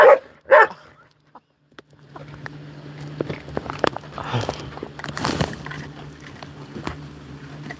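A few sharp dog barks burst out close by at the start of a live indoor stream, followed by quieter shuffling and small movement sounds with a steady low hum beneath.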